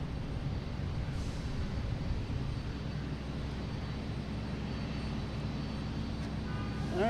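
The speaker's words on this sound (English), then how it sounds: "next coming in is American Airlines from LaGuardia, an E170" An American Airlines Embraer E170 landing at Boston Logan gives a steady, broad roar of engine and air noise for several seconds. It grows slightly louder toward the end and no one speaks.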